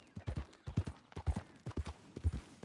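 Horse hooves clip-clop in a steady, close rhythm of paired thuds as a borrowed horse travels a road in a PS4 video game, clear and moderately quiet with no talk over it.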